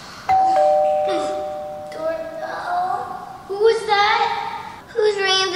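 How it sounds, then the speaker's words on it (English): A doorbell chimes at 3 a.m. inside a home, a clear two-tone ding-dong near the start, followed by children talking excitedly over the remaining seconds. "Doorbell at 3 a.m."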